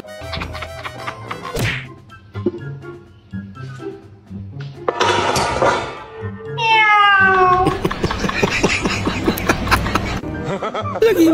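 Cat meowing, with rising and falling pitched cries that stand out loudly in the second half, mixed with short sharp knocks and human laughter.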